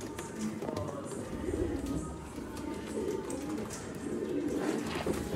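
A breeder pair of birds kept for sale coos steadily and softly at close range, with low repeated calls over a constant background hum.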